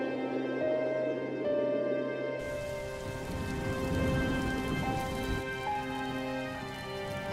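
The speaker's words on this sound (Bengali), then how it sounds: "বৃষ্টি পড়তে শুরু করেছে, ঝড় এক্ষুনি কমে যাবে" Rain falls during a storm in a Bengali cartoon, a dense, steady patter that swells in partway through under sustained background music tones.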